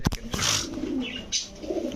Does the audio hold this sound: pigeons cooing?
yes